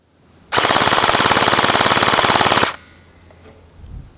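An LDT MP5 gel blaster fires one continuous full-auto burst of about two seconds, a loud, dense rattle of rapid evenly spaced shots that stops abruptly, followed by faint background noise.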